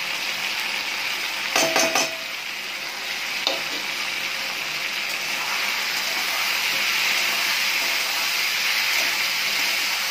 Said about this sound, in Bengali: মশলাটা দিয়ে আমি ভালো করে মশলাটা একটু কষে নিচ্ছি।